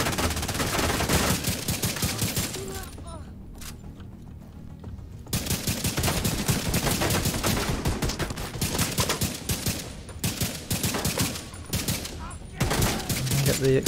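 Dense automatic gunfire and rapid shots from The Division 2 fill the mix, loud and nearly continuous, with one brief lull before heavy firing resumes in sustained bursts.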